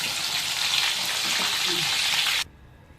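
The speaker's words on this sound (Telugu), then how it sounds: "మీరు ఇంకా సిమ్లో వేసి కాసుకుంటే మంచిది లోపల మంచి ఉడుకుద్ది" Masala-coated fish pieces frying in a pan, giving a loud, steady, close sizzle that cuts off abruptly near the end.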